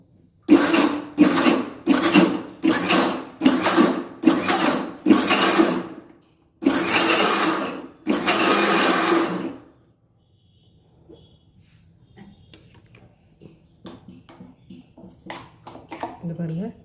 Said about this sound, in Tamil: நல்ல பூண்டு வந்து நம்மளுக்கு நல்லா அரைப்பட்டுறணும்